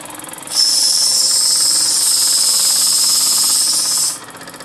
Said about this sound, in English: And that's the operation of the steam engine.